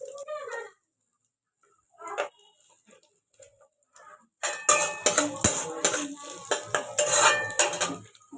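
Chopped carrots are dropped into a pan with a clatter, then a metal utensil scrapes and knocks rhythmically against the pan, loud and close after a few sparse earlier clinks.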